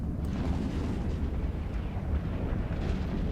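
A battleship blowing apart in EVE Online, heard as a continuous deep, roaring rumble of explosion that holds steady and loud throughout, with no voices over it.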